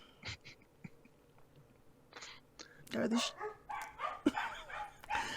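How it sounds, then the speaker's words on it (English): Dogs barking during a podcast recording indoors, a few sharp yips early on and then a busier run of barks and whines, mixed with people talking nearby. "it's fine if they bark because I can just remove my silence"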